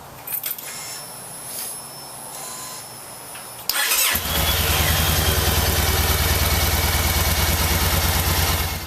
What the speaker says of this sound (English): start the bike, let it run 10 minutes